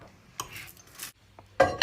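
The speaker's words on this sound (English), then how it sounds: "Then give it all a thorough mix with a fork ideally." A fork clinks and scrapes against a mug while mixing cookie dough, giving a few short, sharp taps and a scraping stir in between quiet gaps.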